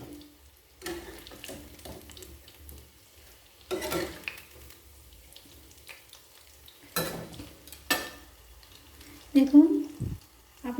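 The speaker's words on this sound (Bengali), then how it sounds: "উল্টে পাল্টে ভেজে নিচ্ছি" Small shrimp pakoras frying in hot oil as they are stirred and turned over, with soft sizzling under scattered sharp scrapes and clinks of a utensil against the pan, close by.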